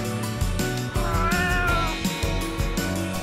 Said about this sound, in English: Serval. It is one of the small wildcat species in Kenya.